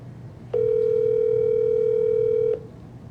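A single steady telephone tone sounds during a livestreamed giveaway call. It is clear and moderately loud and lasts about two seconds over faint background hum.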